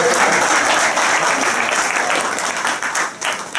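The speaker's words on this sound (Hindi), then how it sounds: "एक बार जोरदार ताली" Loud, sustained applause from an audience at a retirement farewell event, thick continuous clapping that fills the whole stretch and eases slightly toward the end.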